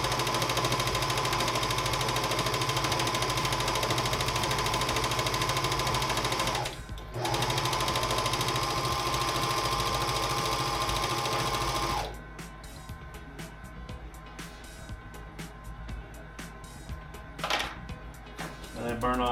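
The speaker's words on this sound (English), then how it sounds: "So I'll serge this." A home serger sewing machine trimming and overlocking fabric edges for a shofar bag, a loud steady whirring buzz for about twelve seconds with one brief pause, then quiet handling sounds.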